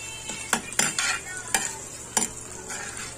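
Butter and pav bhaji sizzle on a tawa while a spatula stirs and scrapes. A few distinct metallic scrapes ring out over a soft frying hiss.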